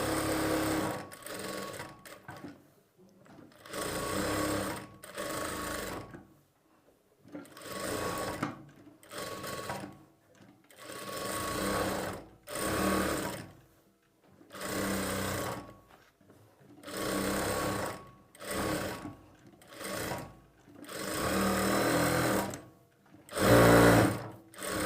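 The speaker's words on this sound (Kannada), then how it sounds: "ಇದು ಅಷ್ಟೇ 2-in-1 ಬ್ಲೌಸಲ್ಲೂ ನೀವು ಅದೇ ರೀತಿಯೇ ಸ್ಟಿಚಿಂಗ್ ಮಾಡ್ಕೊಳ್ಬೇಕು." A sewing machine stitches a blouse lining to the main fabric in repeated loud, close runs of rapid whirring, separated by short pauses.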